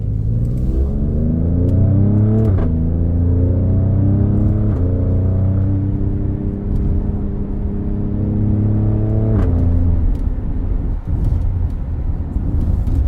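An Alfa Romeo Stelvio Quadrifoglio's twin-turbo V6, 510 horsepower, accelerating hard from inside the cabin, its engine tone climbing through rising pitch sweeps with sharp drops at each gear change, loud and continuous.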